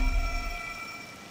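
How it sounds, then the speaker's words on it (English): Rain in the video game Persona 5 Royal, a soft steady wash of falling drops with a faint low rumble at the start, quiet and continuous, no voices. "This rain ain't too bad."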